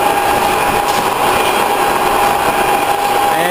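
A horizontal boring mill's spindle runs steadily, a continuous machine whine with a strong steady tone and broadband hum, loud and unbroken throughout, with no talk over it.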